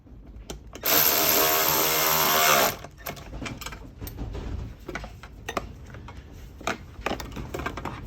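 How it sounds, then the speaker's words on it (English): Tightening windshield fasteners on a Yamaha RMAX side-by-side with a 10mm wrench brings a loud, sustained whirring burst, followed by scattered clicks, taps and light knocks of tools on metal and glass. "snug everybody down. 10mm wrench on the bottom side."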